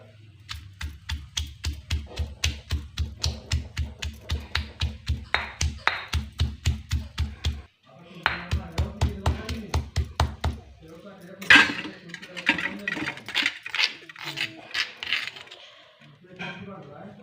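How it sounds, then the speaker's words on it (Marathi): Chilli, garlic and curry leaves pounded in a mortar, steady rhythmic thuds in two long runs, close and crisp, followed by a stretch of spoken narration over lighter taps. "मिरची घालायची आहे लसूण आणि कढीपत्ता हे चेचून घेतो आहे मी"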